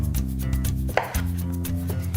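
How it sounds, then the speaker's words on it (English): A knife cuts through a lime on a cutting board, with soft rhythmic slicing and tapping and one sharper thud in the middle, heard close up under steady background music. "I just want to cut a lime because we want a little bit of lime juice"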